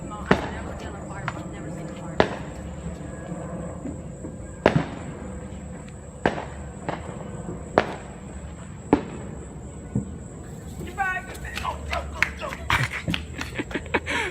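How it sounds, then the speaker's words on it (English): Fireworks going off outdoors, a bottle rocket among them, as a series of sharp loud bangs and pops spaced a second or two apart, ending in a rapid crackling burst, with people talking and laughing nearby. "Round 2 going up. And a bottle rocket."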